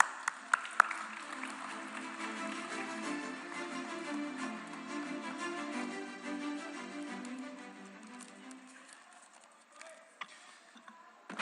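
Applause from a film festival audience at an evening ceremony, a steady low wash of many hands heard from a distance and fairly faint, thinning out toward the end with a few scattered claps.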